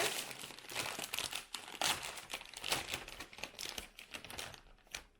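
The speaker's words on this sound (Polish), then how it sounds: "Ziemniaczeno w smaku limonki i pieprzu, także to otwieramy." A bag of Spanish lime-and-pepper potato chips from Majorca is torn open, with loud, continuous crinkling and rustling of the packet close up and sharp crackles throughout, no talking.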